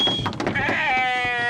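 Sheep in a grazing flock on riverbanks, brought in to eat invasive Japanese knotweed, bleat loudly and close by, several overlapping wavering calls over a brief stretch.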